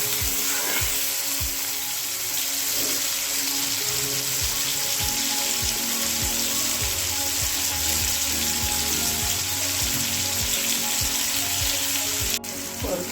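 Onion and tomato sautéing in a pan for a potato and eggplant bhaji, a continuous close sizzle with repeated soft scrapes of a spoon stirring the mixture, no talking.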